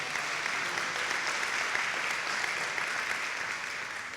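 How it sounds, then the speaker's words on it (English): Conference audience applauding at a summit, a dense, steady wash of clapping from many hands that holds at an even level throughout. "We should actually give ourselves a round of applause for all the social media."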